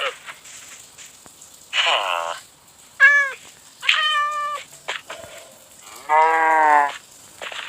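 Cows moo in the video game Minecraft, several separate drawn-out tonal calls spaced apart at moderate volume over quiet game background.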